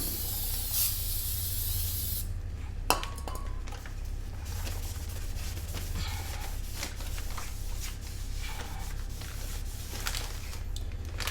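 Steady close hiss of cleaner sprayed onto a new 2018 Acura MDX front brake rotor to wash off packaging oil, continuous for several seconds with a few faint clicks and rustles.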